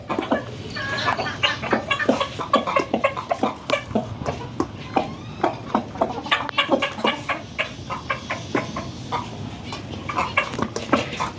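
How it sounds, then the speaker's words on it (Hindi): Several hens cluck and squabble as they peck at and snatch pieces of banana from one another, a dense, busy run of short clucks and squawks close by with no talk. "ये दोनों सील मुर्गियों ने बनाना हाफ हाफ ले लिया और साइड पे हो गई और एक दूसरे से छीन रही है"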